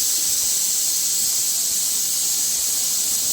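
A pressure cooker boiling potatoes releases a loud, steady steam hiss that runs unbroken throughout, with no voices.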